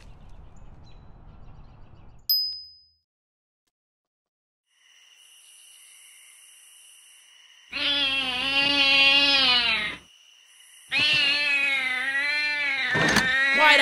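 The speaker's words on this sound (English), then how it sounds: "Quiet out there, you mangy cat!" A cartoon cat yowls and caterwauls outside at night in two long, loud drawn-out wails after a quiet stretch, with a faint high whistle and soft background hum earlier.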